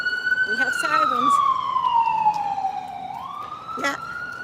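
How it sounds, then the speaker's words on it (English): A police siren wails loudly and continuously on a Brooklyn city street, its pitch sliding down slowly then rising again, with faint voices underneath. "We have sirens."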